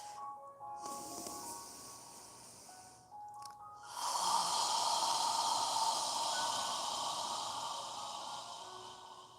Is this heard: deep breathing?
yes